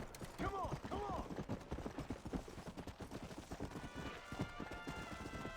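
A horse's hooves clip-clop in a quick rhythm in Red Dead Redemption: Undead Nightmare, with a short neigh early on and faint game sounds beneath, fairly quiet overall.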